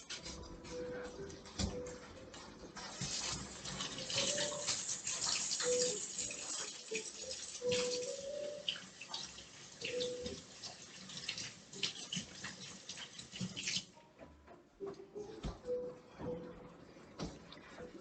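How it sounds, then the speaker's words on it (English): Tap water running at a kitchen sink during hand washing, a steady broad wash of flow with small clatters and splashes, holding for most of the stretch before cutting off near the end. "I'm going to wash my hands again just because I touch my hair before we start making cookies"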